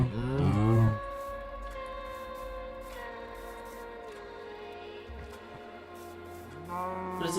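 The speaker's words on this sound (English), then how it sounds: "Oh, here's a whole bunch of cows right here." Cows moo in a Minecraft-style modded video game, GT: New Horizons: a loud close moo at the start, then lower drawn-out lowing, and another moo rising at the end.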